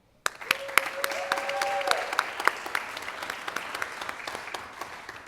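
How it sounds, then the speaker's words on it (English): Applause breaks out suddenly from the audience at a high school student media awards ceremony honoring students and staff, a sustained crowd clapping with a few sharper individual claps and a brief tonal sound early on. "join me in applauding all our honorees this evening"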